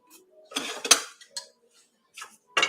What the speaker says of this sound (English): I'm going to give that a little stir